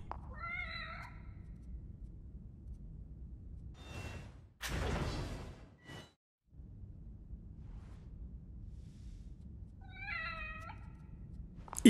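Meowing from a cat at a save point in the horror video game The Evil Within, two short harmonic meows separated by several seconds, clear against a low ambient hum with a brief whoosh between them.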